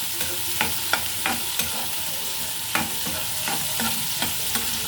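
A garlic tempering (talimpu) for semiya daddojanam sizzles and fries in a pan. A spoon stirs it with sharp, irregular scrapes and clinks over a steady crackle, heard up close with no talking.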